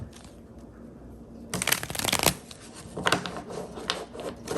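Tarot cards being shuffled in bursts, a dense riffling flutter that swells around the middle and again near the end, close and fairly loud with no talking.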